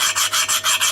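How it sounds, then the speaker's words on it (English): A hand file rasps across a steel PTO shaft in a shed, making loud, rhythmic back-and-forth scraping strokes, about five in quick succession, close up with no talking. "taking it off with a file"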